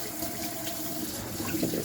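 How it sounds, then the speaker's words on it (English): Tap water runs steadily into a kitchen sink being rinsed of coffee grounds, a close, continuous splashing hiss with slight gurgles and no talk. "I will get the sink rinsed out. I'll get some more water going."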